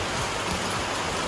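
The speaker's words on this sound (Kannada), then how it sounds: "ಮಂಗಳೂರಲ್ಲಿ ಇಷ್ಟು ಜೋರು ಮಳೆ ಬರ್ತಾ ಉಂಟು." Heavy rain pours down in Mangalore as a dense, steady hiss of water that fills the whole short stretch without pause, with no voices.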